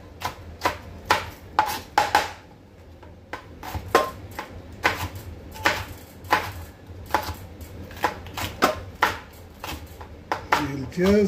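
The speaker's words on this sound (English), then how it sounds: "I'm chopping these fine too." Knife chopping vegetables finely on a cutting board for pav bhaji, with quick uneven bursts of sharp taps separated by short pauses, close and moderately loud, with a faint voice near the end.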